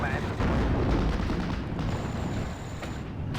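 Artillery fire in the video game Steel Division Normandy 44, heavy rumbling booms and distant gunfire layered over a constant battle din, with someone talking over part of it.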